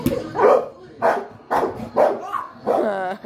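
A dog barks up close, loud and in an irregular series of about six barks, some yippy and whining, with short pauses between them.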